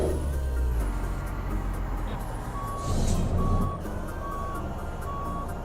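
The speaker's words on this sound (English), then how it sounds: "I'm going to just go backwards as fast as I can, just so I can get my truck in the right angle there" Reversing beeps sound repeatedly over a rumbling truck engine as a big rig backs a trailer into a parking spot in American Truck Simulator near Portland, Oregon, with the low diesel drone steady throughout.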